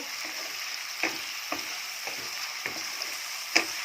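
Oil left over from frying fish sizzles steadily in a pan after salt and tomato are dropped in, a dense continuous crackle with a few sharp pops and utensil taps scattered throughout.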